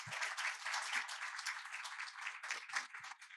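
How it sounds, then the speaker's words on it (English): Sustained applause from an audience, a dense wash of clapping hands that holds steady for a few seconds with no voices on top. "Can we have a round of applause for these two champions?"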